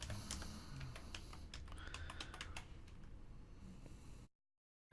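Code being typed on a computer keyboard, a steady run of close, crisp key clicks for about four seconds before it cuts to silence.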